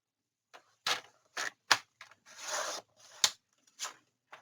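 Artisan cardstock being cut down to size for an album cover, with a series of short, crisp snips and one longer slicing pass, close and clear with no talking.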